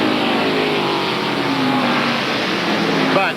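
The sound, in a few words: NASCAR stock cars racing at 1993 Hanes 500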